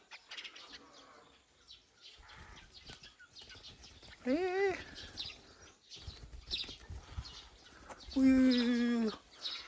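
Young mynas flutter about and give a few loud, rising chirps in two short bursts, close by, while a person exclaims and talks around them outdoors.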